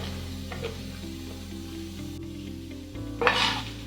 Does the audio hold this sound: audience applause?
no